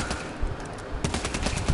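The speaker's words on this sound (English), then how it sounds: "Just constant gunfire." Rapid bursts of gunfire in the PSVR shooter Bravo Team, dense overlapping shots with a sharper cluster of reports in the second half, loud and continuous with no talk.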